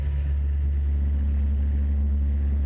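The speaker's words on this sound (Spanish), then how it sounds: "se escucha es la bomba del carro de bomberos que intentaban sofocar las llamas" A fire truck's water pump runs at a roadside trash and cable fire, a steady low mechanical drone with a constant hum, continuous and fairly close, with no voices over it.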